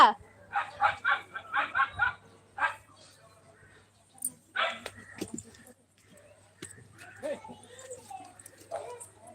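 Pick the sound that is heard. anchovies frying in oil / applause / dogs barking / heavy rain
dogs barking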